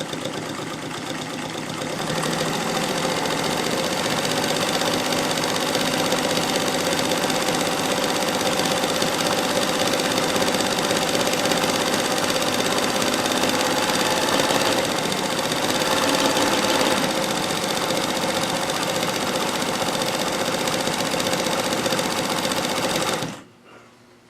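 A Bernina Chandler 217 industrial sewing machine sews a wide serpentine zigzag stitch, a fast, even, loud mechanical hum running steadily for over twenty seconds before stopping abruptly.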